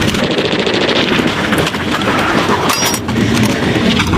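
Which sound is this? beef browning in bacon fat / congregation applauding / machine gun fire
machine gun fire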